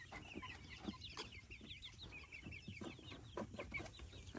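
Leghorn hens cluck and murmur in a busy, overlapping chorus, soft and fairly distant, with scattered short calls continuing steadily throughout and no talking.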